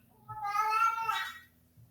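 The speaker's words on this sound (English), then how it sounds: "That was my cat, sorry." A single drawn-out house cat meow, close and clear, lasting about a second against a quiet indoor background with no talk over it.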